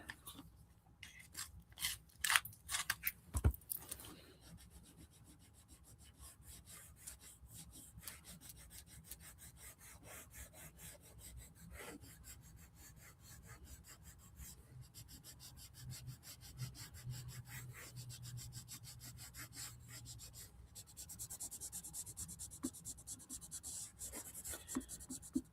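A colored pencil is turned in a sharpener, giving a close, quiet, rhythmic scraping and grinding of wood and lead that runs steadily for about twenty seconds, louder in the opening bursts.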